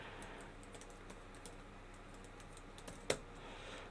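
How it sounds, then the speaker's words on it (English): Faint, quiet typing on a computer keyboard, with light irregular keystrokes near the microphone and one sharper key clack close to the end. "I'll type that in there."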